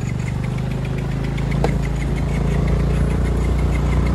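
A motorcycle engine runs steadily on a hill ride from Baglung to Galkot, its rhythmic low chugging idle close and continuous, with a sharp click partway through and the throb growing slightly louder.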